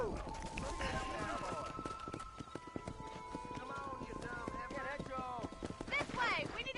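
Horse hooves clip-clop at a quick running pace while cattle are driven down a road in Red Dead Redemption, steady close hoofbeats with a whinny near the end, under someone talking.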